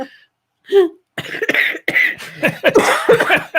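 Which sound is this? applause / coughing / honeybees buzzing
coughing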